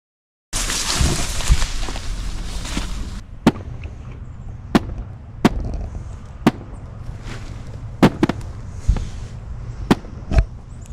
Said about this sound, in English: like gunfire in the distance